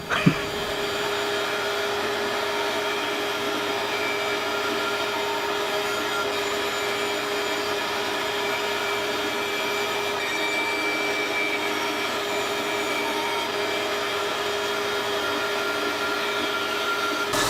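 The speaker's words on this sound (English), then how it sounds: "I just clean up the edges using the belt sander." A belt sander runs with a steady, loud motor drone and abrasive hiss while smoothing the edges of a wooden triangular peg solitaire game board, continuous and close, no talk.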